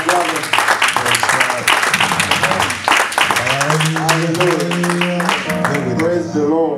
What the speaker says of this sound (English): I want us to give the Lord a clap offering on behalf of our brother.